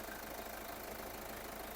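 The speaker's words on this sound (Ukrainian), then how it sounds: "Двигун працює рівненько, нічого не кидає" A 2011 Kia Sorento 4x4 diesel engine idles with an even, steady rumble and a faint regular knock, continuous and close, with no talking.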